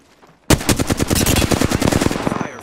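Sudden loud automatic gunfire in the Apex Legends battle royale game, a fast, close, continuous rattle of shots that starts abruptly and runs for about two seconds before tapering off.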